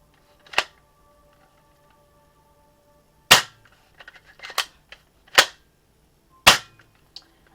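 A BB shotgun fires four sharp, loud cracks spaced a second or more apart, with small mechanical clicks between the shots and no talking.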